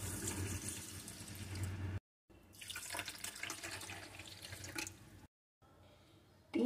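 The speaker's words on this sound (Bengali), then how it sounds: "দেব 2 কাপ পরিমাণ জল" Water poured from cups into a wide cooking pot for malpua syrup, a close splashing gush in two pours separated by short silences, with no talk.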